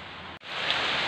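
Heavy afternoon rain pouring outside, a steady dense hiss of drops close and loud, briefly cut off before resuming.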